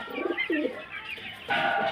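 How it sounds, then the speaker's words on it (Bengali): Kalsara pigeons, a running pair kept for sale, give soft, low cooing calls close by, a couple of short rolling coos followed by a brighter burst of sound. "আর এক পেয়ার কালসারা দেখুন একদম রানিং পেয়ার খুব সুন্দর কোয়ালিটির পায়রা"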